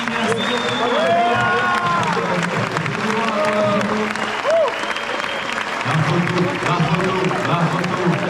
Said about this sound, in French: Bravo les beaux applaudissements à vous aussi, merci beaucoup.